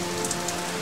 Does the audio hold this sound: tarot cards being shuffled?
no